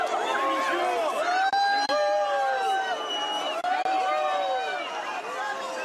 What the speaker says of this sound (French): le Premier ministre Manuel Valls et les officiels quittent les lieux sous les sifflets de la foule